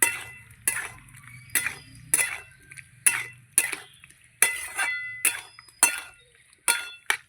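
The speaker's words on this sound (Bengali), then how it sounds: "এবার ভালো করে খুন্তি দিয়ে নাড়িয়ে নেব, মশলার সঙ্গে আলু ভালো করে মিশিয়ে দেবো।" A spatula scrapes and clinks against a pan again and again as potatoes are stirred with spices, a steady series of bright metallic strokes about twice a second, close and clear, with a faint low hum beneath.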